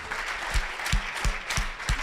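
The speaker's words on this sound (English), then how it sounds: "Give a nice round of applause to Hannah." An audience at a startup weekend pitch evening in Frankfurt applauds a presenter: a dense wash of many hands with a few heavier, regular claps standing out nearby, moderately loud and with no voices.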